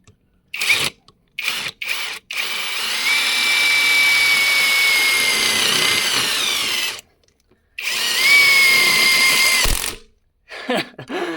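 Two cordless impact wrenches, a Revolt and a Chinese Hilda from AliExpress, run one after the other in a basement, each giving a long, loud, steady motor whine separated by a short pause, with brief clicks and handling noises around them.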